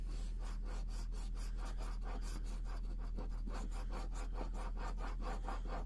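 Lottery scratch-card tickets from the FDJ being scratched one after another, a steady rapid rhythm of dry rubbing strokes close up, continuous and alone with no talk.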